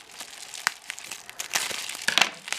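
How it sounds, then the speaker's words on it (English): A package wrapped in bubble wrap and tape is pulled open, with close, fast crinkling and rustling that builds into a louder burst of crumpling and tearing near the end. "Not excited to open it with all this tape and all this bubble"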